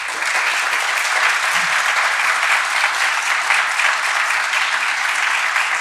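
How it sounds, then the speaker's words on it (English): Sustained audience applause for a panel discussion on visual storytelling, a dense steady wash of many hands clapping at even loudness throughout, with no voices over it. "they deserve a round of applause"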